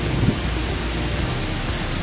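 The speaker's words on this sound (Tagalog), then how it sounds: "medyo maulan pa rin" Steady rain falls over Quezon City, a dense, even hiss that fills the whole stretch without pause or voices.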